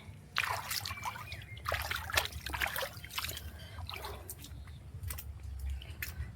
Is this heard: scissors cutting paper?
no